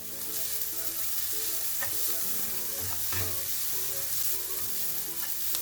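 A crushed coconut paste and curry leaves fry in a pan for a pumpkin thoran, with a steady sizzle under a stirring spoon, one heavier scrape midway, close and moderately quiet.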